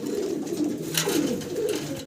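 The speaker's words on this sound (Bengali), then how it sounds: "খুব সুন্দর এক জোড়া রেসার কবুতর।" Racer pigeons coo in low, rolling, throaty murmurs that overlap, steady and close, for about two seconds before the sound cuts off abruptly.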